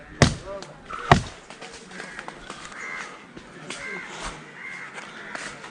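A crow caws several times near its nest high in a tall tree, the calls fairly close and interspersed with a couple of sharp knocks, while a person talks quietly in between.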